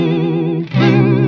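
An electric guitar's dry signal runs through a modulation pedal, giving a sustained, wavering chorused chord that dips briefly and then swells back into another held chord.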